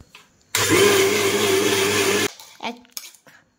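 A mixer grinder roars loudly grinding rice for about two seconds, then cuts off, followed by a few clinks and clatters of the jar.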